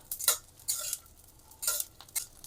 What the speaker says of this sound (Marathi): छान असा फुलेपर्यंत मस्तपैकी तो तळून घ्यायचा